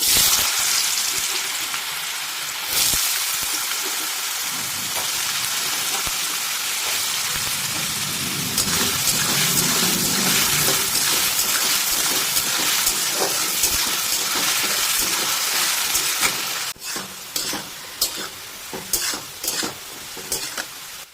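Cut potatoes drop into very hot mustard oil and fry with a loud, steady sizzle that fills the clip, followed near the end by a few sharp clatters of stirring.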